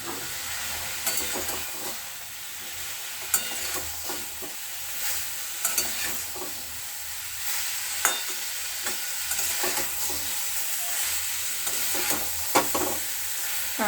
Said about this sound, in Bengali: সেগুলো একসঙ্গে একটু কষিয়ে নেব।